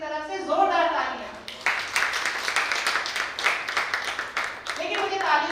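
An audience claps loudly and steadily for about three seconds at an event, with a voice talking just before and just after the applause.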